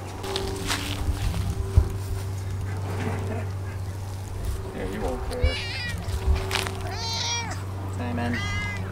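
Several cat meows rise above a steady low household hum, with a person talking softly at times in the background.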